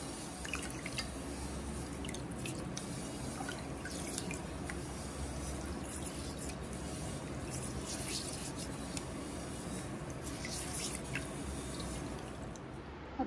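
Finger millet (ragi) is rinsed in water, heard as faint trickles, drips and small splashes over a low, steady background hiss, quiet and close.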